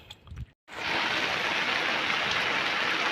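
Heavy rain pours steadily and loudly onto water and a boat during fishing, a dense, continuous hiss that starts right after a brief pause.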